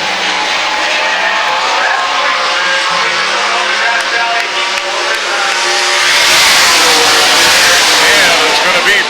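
Race cars at Oskaloosa, Iowa, roar loudly in a continuous engine drone that swells and brightens near the end as cars pass close, with an announcer's voice faintly mixed in.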